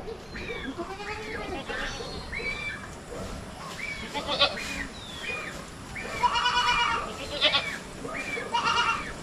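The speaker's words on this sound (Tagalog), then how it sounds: "Kailangan natin magbawas ng kambing." Several goats bleat close by in a farm setting: repeated wavering bleats come in bursts across the stretch, some overlapping, at moderate loudness.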